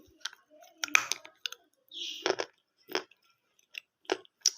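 Crunchy, layered food being bitten and chewed up close, with a series of sharp, separate crunches and clicks between short pauses and no talking.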